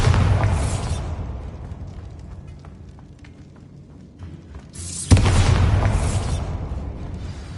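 The Bombarda spell goes off twice in the Hogwarts Legacy video game, each a loud booming blast that rumbles and fades over several seconds.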